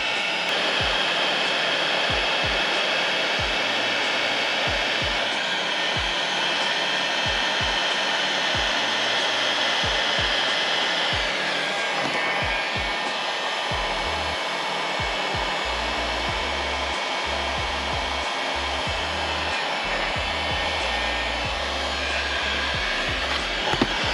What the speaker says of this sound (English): Then you're going to take your heat gun,